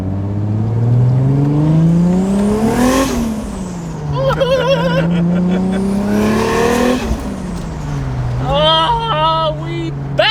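A car with a 1JZ engine and single turbo conversion revs hard twice during a test drive, its pitch climbing to a peak and then dropping each time. Voices talk over the engine between the pulls.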